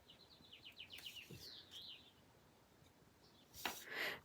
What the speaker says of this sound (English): Birds are just singing away, having a good old time out there.